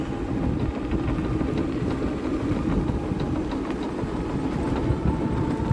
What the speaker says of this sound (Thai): เดินทางกลับนะท่านผู้ชมด้วยรถไฟฟ้า พลุงพลังมากเลย